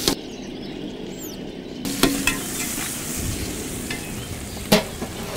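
Onions, cinnamon, cloves and cardamom fry in a pan for a white kurma, a close steady sizzle with scattered stirring knocks and one sharp clack near the end.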